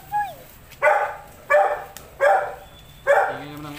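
A dog barks five times in a steady, evenly spaced series, each bark short and fairly close, with faint background noise between them.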